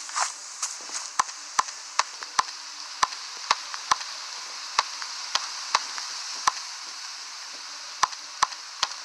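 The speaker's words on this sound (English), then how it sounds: "Now, let's just chop this tree down." Tree chopping in the Roblox game Booga Booga: a series of crisp, light, irregularly spaced thwacks over a steady hissing background, fairly faint and with no talk.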